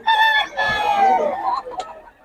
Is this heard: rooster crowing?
yes